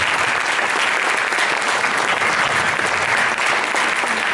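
A theatre audience applauding at an Italian union event, dense and loud sustained clapping from a large crowd filling the whole span without a break.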